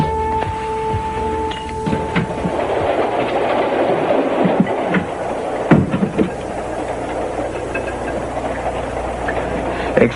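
A train runs on rails with a loud, steady rumble and scattered clacking and metallic knocks throughout, close and continuous.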